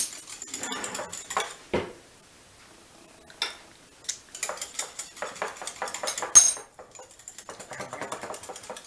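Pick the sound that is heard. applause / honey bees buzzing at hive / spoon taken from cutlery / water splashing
spoon taken from cutlery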